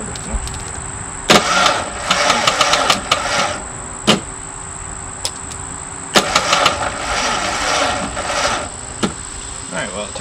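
An engine cranks and turns over in repeated short bursts, with a whirring starter rhythm over a steady high insect-like whine; no clear catch or running, moderately loud and close.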